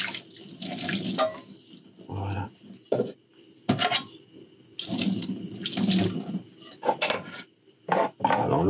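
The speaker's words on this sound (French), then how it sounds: "et maintenant je passe à l'eau claire que j'avais conservée de la douche" Saved shower water is poured from a container into a cooking pan inside a camper van, producing splashy trickling bursts that start and stop several times. The pours come from close by, with brief metallic pan sounds between them.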